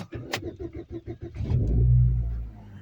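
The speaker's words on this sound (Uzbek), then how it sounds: "Mana do'stlar, mashina o't oldi." A car engine being started at about minus four degrees: the starter cranks in a quick rhythmic series of chugs, then the engine catches and settles into a low, steady idle nearby.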